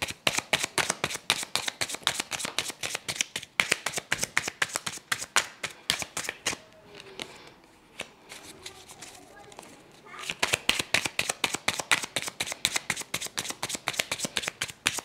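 A deck of tarot cards shuffled by hand, rapid rhythmic riffling bursts close up, pausing midway for a few seconds of quieter handling before the brisk shuffling resumes.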